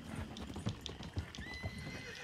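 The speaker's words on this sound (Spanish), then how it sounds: "el caballo se asusta" A horse in a Red Dead-style roleplay game near Saint Denis, with steady hoof clip-clops on a hard surface and a whinny, fairly close and moderately loud.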